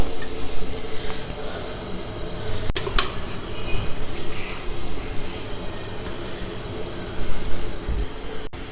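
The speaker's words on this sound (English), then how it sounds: "Now we'll place these plates in the steamer." A steamer hisses steadily on the stove while idiyappam plates steam inside, a constant close, loud hiss with a brief sharp click near the start and another near the end.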